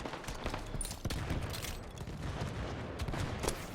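Rapid bursts of video game gunfire crackle densely throughout, a teammate firing at an enemy during an online shooter match, steady and fairly loud with scattered sharper cracks.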